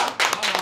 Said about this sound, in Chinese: 大家伙为你 鼓掌！